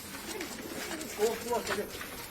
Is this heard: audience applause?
no